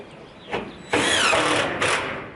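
Power driver sinking screws into lower siding, with a short whir followed by a longer, louder buzzing run and a brief final burst, close and with no talk.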